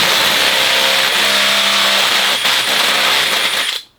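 A power drill bores into wood while building a pressure washing rig in an enclosed trailer, a loud steady whine with a wavering motor pitch that holds for several seconds, then spins down and stops abruptly near the end, with no talking.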